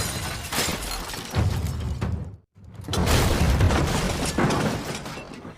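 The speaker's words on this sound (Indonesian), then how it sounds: "Wulin berhasil mengadang mereka dan masuk melalui kaca depan mobil" Car windscreen glass smashing in an action film fight scene, a dense crashing burst with shattering debris, a brief silent gap, then another loud sustained crash of breaking glass and impacts.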